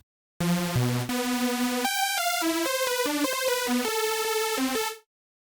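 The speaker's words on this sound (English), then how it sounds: "start with a saw wave, crank up the number of voices to 8" A bright, buzzing supersaw synth plays a short run of sustained chords and notes, thick and wide, alone for about five seconds.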